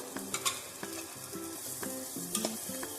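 Sliced mushrooms fry in a pan for garlic mushroom while being stirred, giving a steady sizzle broken by rhythmic scraping and clattering strokes of the utensil, close and moderately loud, with no voices.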